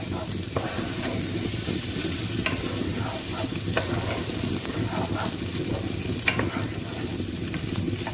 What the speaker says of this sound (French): Je rajoute le boulgour. Je mélange.